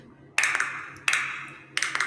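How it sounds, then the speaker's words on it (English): Hands clap in three sharp bursts, each a quick cluster of claps with short gaps between, close and clear with no talking. "I'll try and stop the clapping as well because I'm getting a bit excited"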